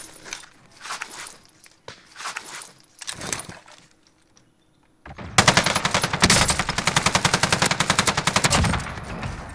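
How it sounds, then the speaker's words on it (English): Gunfire in the Fortnite video game: scattered shots and footstep-like clatter at first, a short hush, then a loud, sustained rapid burst of automatic fire rattling for several seconds, close and dominant. "Getting shot from everywhere?"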